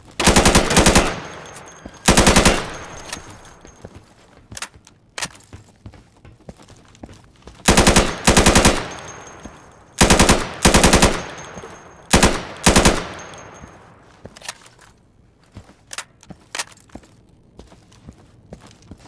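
Insurgency video game gunfire while clearing a warehouse of targets: loud automatic bursts ring out in separate volleys with short pauses between them, and scattered single shots and footsteps fill the quieter gaps.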